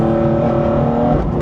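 BMW M4 GTS on track with worn tyres, engine roaring loud and steady under hard acceleration as the rear struggles for traction, a constant dense drone with no pauses.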